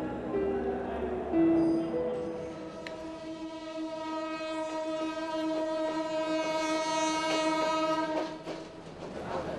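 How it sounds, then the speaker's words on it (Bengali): A train arrives, sounding a long, loud horn over a steady rumble of rolling wagons that builds and then fades toward the end, with no one speaking. "ওই তো ট্রেন আসছো"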